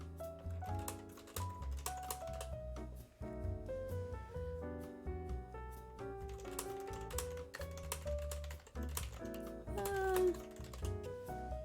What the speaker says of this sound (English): Still hate the space bars being so loud and obnoxious.